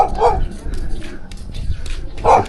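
A dog barks in loud, close, sharp bursts, with brief whimpering yips between them and some background voices underneath.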